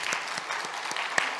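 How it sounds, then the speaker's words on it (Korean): A few scattered, faint hand claps follow a church choir's hymn, sparse and fairly distant, with only a handful of claps sounding over a quiet room. "이런 데는 박수 한번 쳐주셔야 되는데요"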